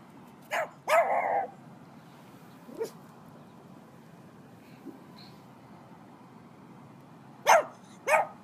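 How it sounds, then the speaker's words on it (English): A dog barks in short bursts, a pair of quick yips near the start, a few faint scattered sounds in a quiet middle, then two sharp barks close at the end; nearby someone speaks softly now and then. "Scary dog."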